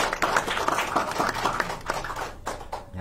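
Audience applause at a health talk show, a dense spread of hand claps filling the room at moderate loudness for a few seconds.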